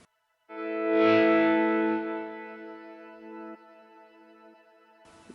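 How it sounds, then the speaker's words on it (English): A sustained, shimmering guitar pad chord from a Line 6 Helix modeler swells in, blooms loudly, then slowly thins out, with a soft echoing tail trailing behind it. "You can now hear that we started to introduce this really cool little pad type thing."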